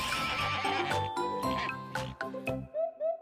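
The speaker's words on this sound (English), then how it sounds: "H for horse, h horse." A horse neighs loudly in a children's phonics alphabet song, with a whinny followed by a couple of short snorts at the end.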